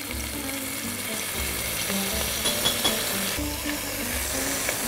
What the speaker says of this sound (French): Donc je laisse d'abord les oignons se caraméliser.